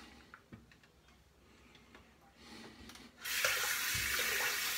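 A bathroom tap gushes into a sink as the face is rinsed after shaving with a Swedish-made razor, a soft hiss that swells to a loud, steady rush in the last seconds, with faint clicks before it.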